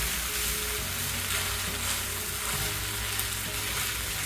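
A meat farofa mixture frying in a pan while being stirred gives a dense, continuous sizzle and crackle, steady and close with no talking.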